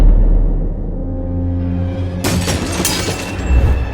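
Sound effect of a tray of food offerings falling and shattering in a house, a low rumbling buildup that breaks into a loud crash of breaking pieces which keeps scattering.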